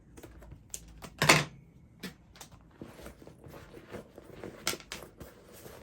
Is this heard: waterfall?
no